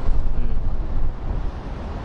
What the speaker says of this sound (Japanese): ここめっちゃ涼しい風が気持ちいいな